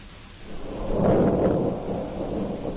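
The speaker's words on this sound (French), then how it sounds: "Un vent violent s'est levé, nous mitraillant d'une pluie glacée" A strong gust of wind roars up and swells, with freezing rain driving down in a dense, rumbling wash, in Scotland near Stirling.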